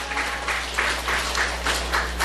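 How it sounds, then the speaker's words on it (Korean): A church congregation claps in welcome during a Sabbath service, loud, dense applause with a faint pulsing rhythm over a low steady hum, with no one talking. "우리 박수로 환영할까요?"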